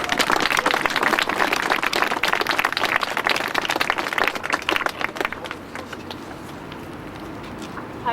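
A rally crowd on Parliament Hill claps in dense, steady applause that gradually thins and fades out toward the end.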